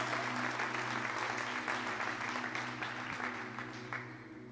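Sustained clapping from a congregation in a large church, loud and continuous, with a low organ-like hum underneath, gradually tapering slightly at the end.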